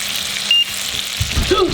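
Garlic frying in a pan gives off a soft steady sizzle, close by, with a few brief clinks and a louder stirring rustle toward the end.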